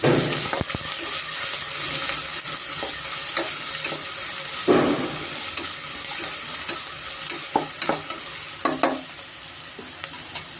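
Onions sizzle and fry steadily in a pan for green egg biryani, with scattered scrapes and clicks of stirring over a constant hiss.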